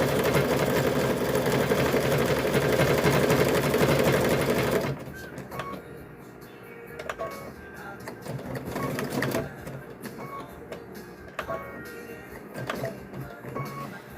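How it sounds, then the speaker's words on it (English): A sewing machine stitches across a coiled rope bowl, running in a loud, steady whir for several seconds, then stopping and restarting in quieter, shorter bursts with occasional clicks. "we're going to stitch this across"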